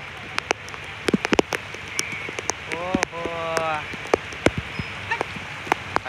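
Rain falls on a farm field, with close, irregular drops striking a surface as sharp taps over a soft wash; a person speaks briefly in the middle.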